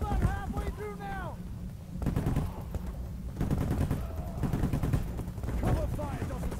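Rapid automatic gunfire in the PayDay The Heist video game, with repeated sharp bursts over a dense, noisy background of shooting, while a voice speaks over it.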